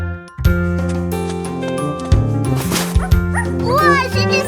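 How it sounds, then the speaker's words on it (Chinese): Cartoon puppy barks and yips in a children's song, several short bright yelps over a loud sung melody and music, with a little tinkling near the end. "哇，是只小狗。"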